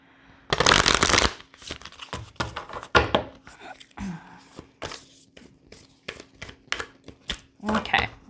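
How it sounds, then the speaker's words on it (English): Large, oversized tarot cards being shuffled by hand, opening with a loud riffling burst and followed by irregular slaps, flicks and soft card knocks at close range. "These cards are really big and they're kind of hard to shuffle"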